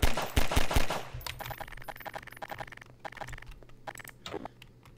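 Pistol shots in a video game: a few sharp cracks in quick succession at the start, then softer clicks and clatter trailing off.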